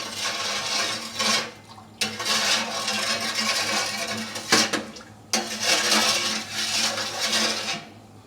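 Sugar pours slowly into a bowl for soy milk jelly, giving a close, hissing granular rustle in several long bursts separated by brief pauses, with a sharp knock near the middle.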